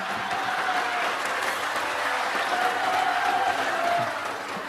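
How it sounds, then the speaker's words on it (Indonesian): Audience applause in a hall during a religious and civic talk on tolerance, a steady dense wash of clapping lasting several seconds at moderate level and fading slightly at the end. "Lu kok gak ada yang tepuk tangan?"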